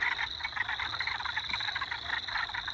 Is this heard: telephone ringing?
no